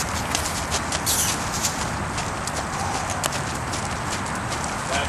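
Hooves of a half-Friesian sport horse trotting under saddle on its first ride, a steady rhythmic clip-clop over a noisy outdoor background with faint breathing and ambient rustle.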